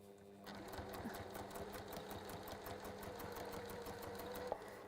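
Sewing machine stitching pleather, a steady rapid needle clatter starting after a brief pause and running continuously, close up and quiet.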